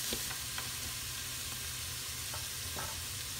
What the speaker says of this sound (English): And we'll just stir these around. Now we're just going to cook this until it's nice and fragrant and a little translucent.